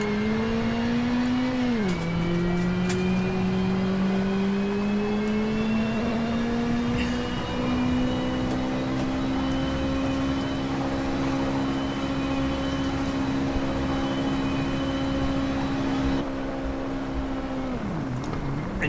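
A rally car in the WRC 7 racing game screams uphill through a stage in Germany, its engine note climbing steadily, dipping briefly on gear changes near the start and the end, loud and continuous with no talk.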